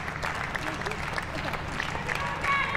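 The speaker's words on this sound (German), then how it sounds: "das Klatschen, der Applaus der wenigen Zuschauer offiziell hier im Stadion sind für Julia Quinn" Sparse clapping from a small number of spectators in a stadium at a women's Euro qualifier football match between Germany and Ireland, faint and steady beneath a commentator's voice.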